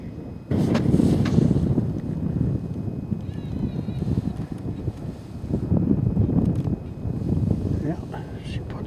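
Wind gusting steadily across an outdoor shooting range, a broad rumbling roar of buffeting noise on the microphone that persists throughout with brief fluctuations; a person talks over it.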